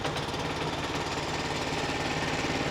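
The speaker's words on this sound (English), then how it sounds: "So now the engine's running" A Weibang Velocity 68 tracked flail mower's engine runs steadily after a pull start, a loud, continuous close-up rumble with a rapid pulsing knock and no change in pace.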